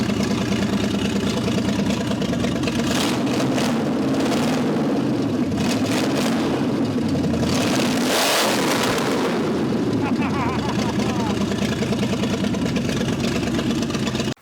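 A 1958 Plymouth barn find with a newly installed engine, running steadily and loudly close by, with a few revs swelling midway, and a voice talking over it.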